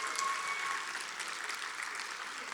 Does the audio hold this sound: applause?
yes